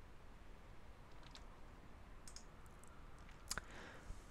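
A computer mouse clicks a few times, faint and close, with one sharper click standing out near the end over a quiet hiss.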